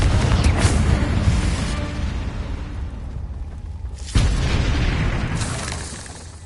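Two booming Confringo spell explosions in Hogwarts Legacy gameplay, each a loud close blast that rolls off into a fading rumble, the second striking about four seconds after the first.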